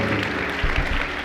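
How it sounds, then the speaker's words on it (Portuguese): Studio audience at a talk-show podcast gives a short burst of clapping, brief and fairly close, with some low voices or murmur mixed under it. "Uau, uma salva de palmas."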